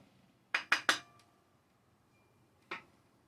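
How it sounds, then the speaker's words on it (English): A serving utensil clinks against a plate while chicken roll ups are scooped onto it: three quick sharp ringing taps close together, then quiet, then one more clink, close and clear with no talking. "I'm going to take a scoop of it and put it on my plate"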